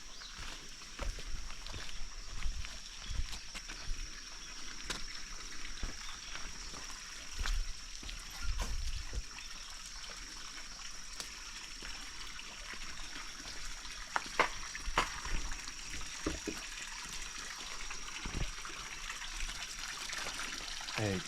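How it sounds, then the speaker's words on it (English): Water trickles and seeps out of mountain bedrock, mud and earth at a shrine in Japan, a soft steady dribble with occasional small splashes and rustles, faint and continuous throughout. "the water is percolating down out through the mountain. You can just see it seeping out through the bedrock and the mud and the earth here."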